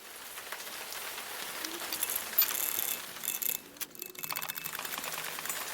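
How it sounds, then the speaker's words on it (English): Wheel nuts on a Land Rover Defender TD5 are loosened and the vehicle jacked up, giving faint ratcheting and metallic mechanical clicks and clatter at close range with no talking. "pre-loosening the wheel nuts before I jack the vehicle up"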